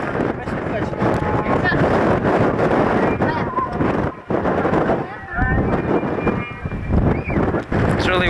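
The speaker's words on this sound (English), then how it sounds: "It's really windy up here." Strong wind on a hilltop above the airport in Hargeisa, Somaliland, buffeting the microphone in a loud, continuous roar with brief lulls, while people talk underneath.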